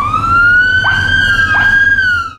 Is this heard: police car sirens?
yes